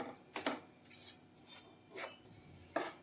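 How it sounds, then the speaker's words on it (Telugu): Ragi flour being stirred and roasted in a pan on a medium flame, with intermittent scraping and rasping strokes of a utensil against the pan, several distinct close scrapes spaced irregularly over a faint background. "ఇలా మీడియం ఫ్లేమ్లో పెట్టి తిప్పుతూ పిండిని వేయించుకోవాలి."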